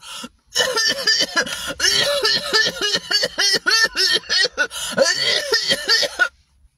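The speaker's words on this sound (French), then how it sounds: "Je dois tousser maintenant." A rapid series of short, forced coughs during a tuberculosis test, one after another in quick rhythm, close and fairly loud, with brief pauses between bursts.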